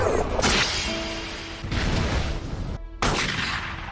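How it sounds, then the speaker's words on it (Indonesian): Gunshots in an animated action scene: several loud booming blasts with whooshing impacts, the strongest near the start, middle and end, mixed with dramatic effects. "sebuah peluru panas seketika menembus tubuh Shelley"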